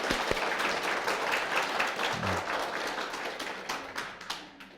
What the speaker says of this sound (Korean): 그럼 박수 한번.